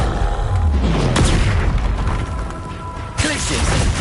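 A Bombarda blasting spell goes off in a Harry Potter video game, a heavy booming burst layered over game effects and a steady rumble, with a second sharp impact near the end.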